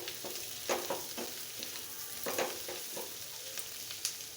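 An egg and shrimp fry is stirred in a pan, with a quiet, steady sizzle and a few soft scraping strokes spread irregularly through it, and no talking.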